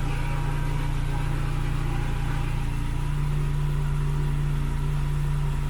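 An idling Mk3 Ford Cortina engine hums steadily with a low, continuous metallic rattle from the exhaust extractor, close by and unchanging.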